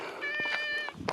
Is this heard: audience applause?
no